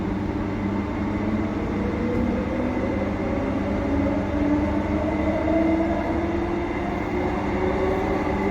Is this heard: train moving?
yes